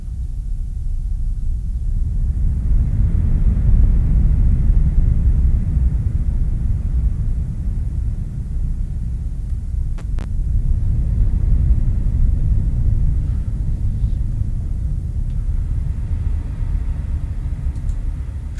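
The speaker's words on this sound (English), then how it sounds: "this is how we do thunder on HFO television" A thunder sound effect track plays back as a long, deep, rolling rumble that swells and sustains for many seconds, loud and low with no voices.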